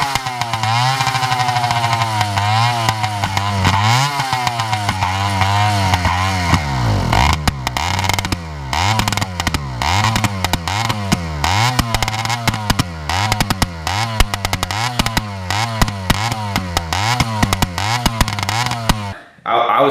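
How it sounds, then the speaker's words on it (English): A modified motorcycle engine runs close and loud with a rough, pulsing, uneven beat, its revs repeatedly dipping and rising before cutting out abruptly at the end. "I could hold the kill switch and the thing is just idling like perfectly"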